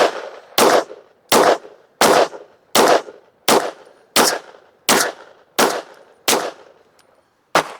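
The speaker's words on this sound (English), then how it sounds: "we're going to shoot another 10-shot group. We got 115 grain Federal American Eagle loaded back up again." A Walther PDP FS Pro SD pistol fitted with a Strike Industries Micro Comp fires ten rounds of 115 grain Federal American Eagle. The ten loud, close shots are evenly spaced, with a longer pause before the last one.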